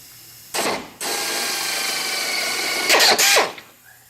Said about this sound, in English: We've got 3 holes to drill under here.